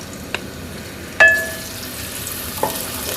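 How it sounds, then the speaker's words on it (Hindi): Finely chopped small onions dropped into half a cup of hot oil in a pot, a sharp splash and hiss at the start that settles into a steady low sizzle, with a couple of faint clinks from stirring. "इसको तब तक फ्राई करना है जब तक कि ये गोल्डन की तरफ जाना शुरू हो जाए"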